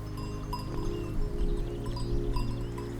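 Continuous sheep bells clanking and ringing together in a steady jumble on a hillside in Sardinia, Italy, fairly close, with no voices.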